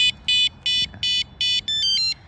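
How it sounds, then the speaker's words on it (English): A loud Honda GB350 motorcycle anti-theft alarm sounds in five evenly spaced beeping bursts, triggered by shaking the bike, then shifts into a rapid warbling tone, close by with faint rustling underneath. "If I shake the bike like somebody's stealing it, then it should go off."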